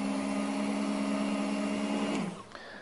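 A Work Sharp belt knife and tool sharpener runs with a steady, close motor whine and belt hum while a blade is pulled through its guide, then winds down and stops near the end.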